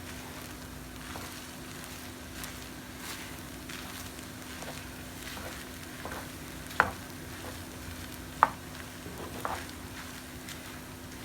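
Shrimp fried rice with sauce being stirred in a pan, a low steady sizzle under soft scraping of the utensil, with a couple of sharper clinks against the pan near the end.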